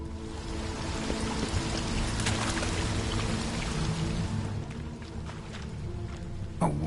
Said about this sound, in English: A waterfall flowing upwards?